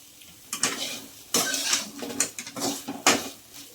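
Metal utensils clink and scrape against a bowl as a small bitter gourd fry (chitti kakarakaya) is served in a home kitchen, several sharp separate knocks at an uneven pace with soft scraping between them.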